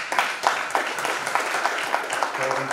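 Audience applause in a seminar hall at the National Assembly members' office building, with an even patter of many hands and faint voices mixed into the clapping.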